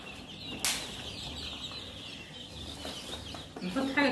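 Young free-range chickens on a farm, with soft scattered clucks, a sudden burst of wing flapping and some shuffling close by, under faint background noise.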